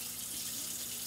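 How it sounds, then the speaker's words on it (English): Kitchen tap water runs into a sink in a brief, steady, faint rush of flowing water, heard alone. "Let's put some water in it. I'm not going to use spring water. I'm going to use complete sink water, tap water."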